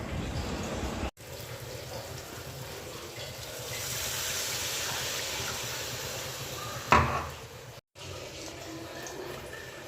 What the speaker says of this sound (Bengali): এবার এর মধ্যে আমি একটু জল দিয়ে দেবো।